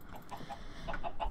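Chickens cluck in the Minecraft video game with the Mr. Crayfish's Furniture Mod, several short soft clucks scattered through a moderately quiet game soundscape with no talk.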